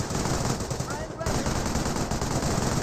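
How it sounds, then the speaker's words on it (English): Sustained machine gun fire from a Bren carrier in a video game battle, a dense continuous burst of rapid shots with a short break near the middle, loud and close. "Bren carrier is receiving a bit of fire there. And now is able to start firing in return."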